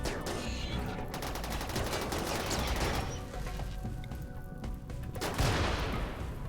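Rapid gunfire from Inferno Cannon turrets in the video game RimWorld, a dense, continuous fusillade of bursts with booming impacts, loud and sustained throughout.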